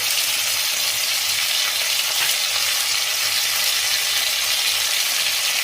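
Vegetables and spices for Bengali shukto fry and splutter loudly in a pan, a dense continuous sizzle with crackling spits running throughout, with no voices over it.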